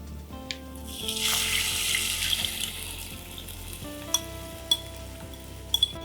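A buttermilk mixture for kadhi is poured into a hot pan, a burst of liquid rushing and sizzling that settles into a softer simmer, followed by a few sharp clinks of a utensil against the pan.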